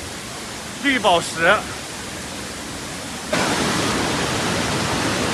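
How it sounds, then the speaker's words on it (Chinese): A tall waterfall on Yuntai Mountain plunges from a clifftop at the end of a gorge, giving a steady, broad rushing roar that swells louder partway through, with a brief spoken voice early on. "这个峡谷的尽头也是一个瀑布啊，这瀑布也挺壮观的，看从那山顶上飞泻而下呀"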